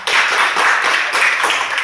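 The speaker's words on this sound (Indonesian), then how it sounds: "Tepuk tangan dulu untuk Ahmad." Students in a classroom clap together in a brief, dense burst of applause, loud and close, with no talk over it.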